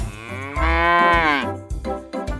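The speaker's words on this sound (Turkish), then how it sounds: "Bu hayvanın adı inek." A cow moos loudly in a long, drawn-out call, followed by a few shorter, lower lowing sounds, close and clear with no talk over it.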